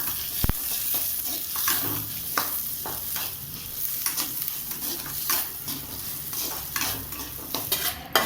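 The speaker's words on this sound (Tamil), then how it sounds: "சீரகம் எல்லாத்தையும் சேர்த்து லைட்டாக வதக்கிக்கலாம்." Black pepper and cumin seeds sizzle and crackle in a hot pan while a spoon stirs and scrapes steadily, close and continuous, with no talking.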